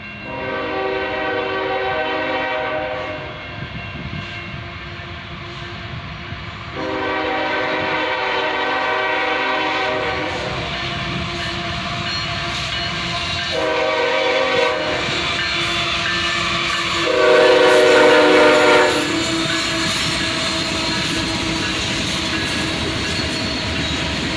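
A CSX freight train led by an ES44AC-H diesel locomotive with a GP39-2 second rumbles past with diesel engines droning, repeated loud horn blasts sounding over the steady roll of the wagons.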